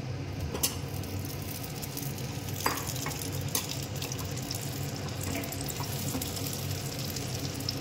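Boiled hog plums added to hot oil and frying for a pickle, with a dense, steady hiss of sizzling and a few sharp crackles, close and loud, no voices.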